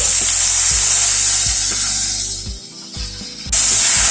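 Whole spices tempering in hot oil for a light paneer curry give off a steady, loud sizzle and spitting crackle, with a few sharp low knocks and a brief dip before the frying noise surges back.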